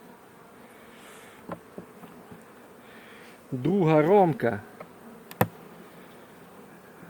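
Honey bees in a hive hum in a steady low buzz throughout, with a few sharp clicks and someone speaking briefly in the middle.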